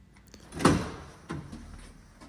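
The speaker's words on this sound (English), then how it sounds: "So we have our door, and as it closes" Door shutting under an automatic door closer, a quiet soft thud followed by a lighter latch click about half a second later, faint room background, no voices.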